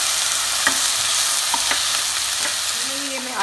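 Chopped bottle gourd and tomatoes sautéing in a pan for sambar, a steady loud sizzle with a few spoon scrapes and taps as the mix is stirred, no voices.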